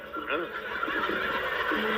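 A horse whinny rings out during a Balinese drama gong stage performance at the Art Centre in Denpasar. The wavering, pitched neigh is loud and close, with voices speaking around it.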